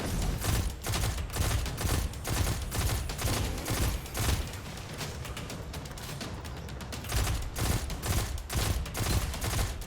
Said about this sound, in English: How many Xenophage bullets I actually tried to hit him with.